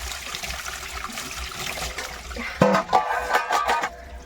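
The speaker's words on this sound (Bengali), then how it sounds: "পুরো জলটা গায়ের মধ্যে ঢেলে দিই" Water from a basin is poured over a person's body while bathing, a soft continuous trickle that breaks into louder splashing gushes near the end.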